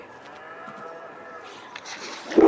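Cows low in a Farming Simulator 22 farm scene, a drawn-out moo running across the stretch with a louder, closer bellow rising at the very end, all without talk.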